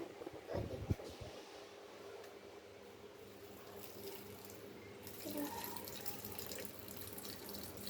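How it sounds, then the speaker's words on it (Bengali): Water poured onto a betel plant during watering, a soft continuous splashing trickle, faint and close, with a brief knock near the start and a slightly fuller pour toward the end. "আমি এখন পান গাছে জল দিচ্ছি"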